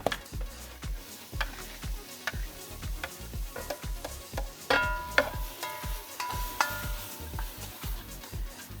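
Chopped onion and carrots frying over high heat in a pan, with a steady sizzle under regular scraping strokes of a spoon or spatula as they are stirred, close and moderately loud, with no talking.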